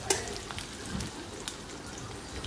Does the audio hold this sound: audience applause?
no